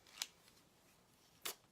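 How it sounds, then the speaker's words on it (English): Scallop-edged craft scissors cutting paper, two crisp separate snips more than a second apart, close and fairly quiet against a silent background. "I have all kinds of interesting shaped scissors. So when I need to cut around something, it's useful."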